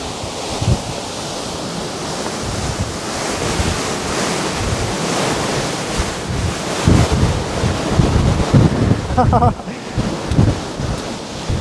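Powerful Typhoon Hinnamnor wind in Okinawa roars and buffets the microphone continuously, with surging gusts and a rushing, surf-like hiss throughout.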